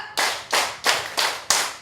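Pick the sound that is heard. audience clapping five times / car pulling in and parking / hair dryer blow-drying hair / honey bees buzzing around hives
audience clapping five times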